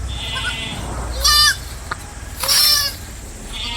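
Goats, mothers with their young kids, let out two distinct loud bleats about a second apart, with softer, fainter calls at the start and end over quiet background noise.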